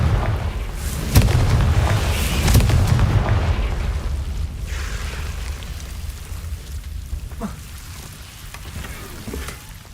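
Confringo spell in a Hogwarts video game bursts into a heavy, booming blast, followed by a rumbling, crackling tail that slowly fades over several seconds, with no talk.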